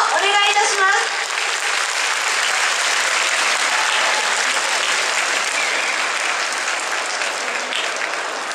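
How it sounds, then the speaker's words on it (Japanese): Festival crowd applauding after a Kariya Mando lantern-dance performance from Aichi, shown at a hometown festival event in Tokyo; sustained, full clapping from many hands, with a brief tonal call near the start before the applause settles into an even roar. "皆様今一度大きな拍手をお願いいたします。"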